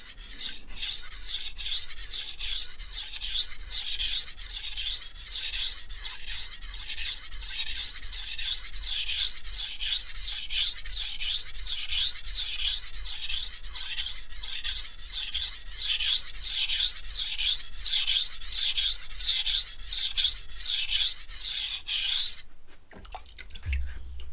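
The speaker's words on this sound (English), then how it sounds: "Typically, you'll find knives with softer steels on coarse whetstones tend to make that noise." A Zwilling Pro santoku knife with soft steel is drawn across a coarse whetstone in a long run of even, rhythmic rasping strokes, close and loud, ending with a brief knock.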